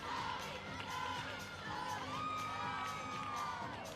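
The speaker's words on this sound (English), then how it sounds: "I love how you can hear the Illinois team in the back chanting for her as well." Faint, far-off cheering and chanting from a gymnastics team fills an NCAA regional arena, high excited voices and whoops swelling continuously under a steady crowd murmur.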